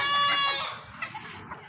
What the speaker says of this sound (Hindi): ये देखें ये एक मुर्गा है